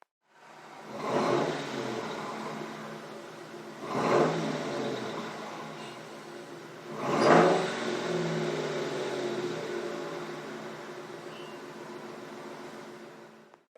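A 2003 Mercury Grand Marquis GS exhaust with two Flowmaster high-flow catalytic converters roars through three sharp revs, each swelling loud then settling into a steady, throaty rumble close by.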